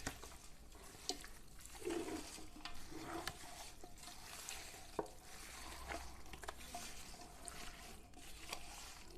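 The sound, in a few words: mixing 2 kg of chicken with spices for Hyderabadi biryani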